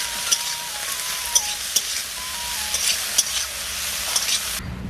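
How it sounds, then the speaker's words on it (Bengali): Broccoli frying in oil with salt and turmeric in a village kitchen pan: a steady, soft sizzle with occasional light clicks of stirring, alone without voices. "কপিটা ভেজে নেব।"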